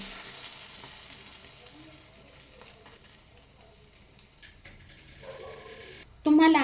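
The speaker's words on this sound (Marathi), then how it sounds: "आणि हा पराठा पलटी करून घ्यायचा आहे बघा पराठा अजिबातही फ्राय पॅनला चिकटला नाही" A wheat flour and egg paratha sizzles in a non-stick frying pan with a soft, steady frying hiss that continues for several seconds and grows louder toward the end. A brief clatter occurs when the lid comes off, and the flatbread is flipped.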